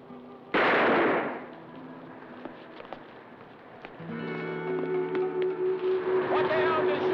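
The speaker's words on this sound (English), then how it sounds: "What the hell is shooting for?" A single loud gunshot bursts out early, then fades under a long rumbling tail while voices talk and engine or wind noise builds, from a 1975 TV movie.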